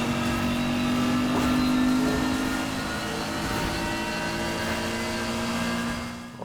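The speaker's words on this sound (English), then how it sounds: "you can still hear your V8 and straight cut gears amongst all of it" A BMW M4 with a V8 engine and straight-cut gears roars continuously in the Need for Speed Heat racing game, holding a steady, loud, droning engine note with gear whine. Other race cars rumble in the background.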